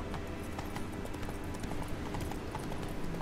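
Hooves of Roach, the horse in the Witcher 3 video game, clip-clopping in a steady walking rhythm under a dense, continuous game soundscape.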